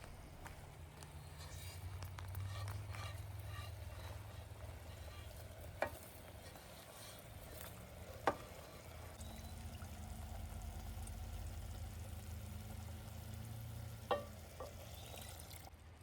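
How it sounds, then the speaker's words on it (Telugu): Rice poured into a pot of cooked tomato and marinated paneer at a forest tent campsite, with a low steady simmering hiss, soft stirring scrapes and a few sharp clinks of utensil against the pot. "ఇప్పుడు రైస్ వేసుకుందాం."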